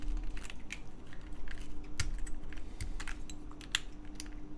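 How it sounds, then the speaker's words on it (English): Keycaps being pulled off a Chilkey ND104 keyboard, giving a scattered series of light plastic clicks and taps at an irregular pace, close up over a low steady hum. "Let me just take out these keycaps and stuff."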